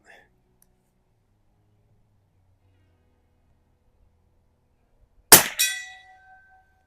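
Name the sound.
rifle shot hitting steel target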